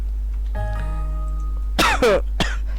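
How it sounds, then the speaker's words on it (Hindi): A couple of harsh, close coughs in quick succession, the second one trailing into a shorter cough over a low steady hum. "5 मिनट तो खांसी आ जा रही मेरे को"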